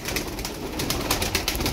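Turkish tumbler pigeons from a single coop coo steadily in a dense, continuous flock murmur, close and moderately loud, with no voices.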